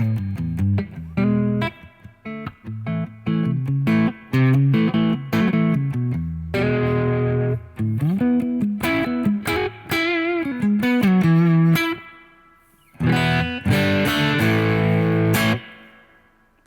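Electric guitar on the neck pickup, run through a Boss Fender '63 reverb and a Nordland ODR-C overdrive for light grit, playing loud chordal phrases and single-note runs with short pauses and ringing reverb tails.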